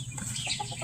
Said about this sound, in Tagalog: So ito naman po yung manok natin.